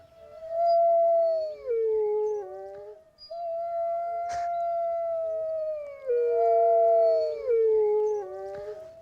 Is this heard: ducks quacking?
no